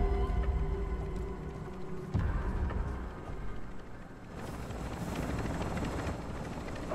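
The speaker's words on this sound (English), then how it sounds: "Extract helo departing LZ." A Call of Duty extraction helicopter departs a landing zone, its rotor and engine roar steady and moderately loud, swelling again in the second half with no talk.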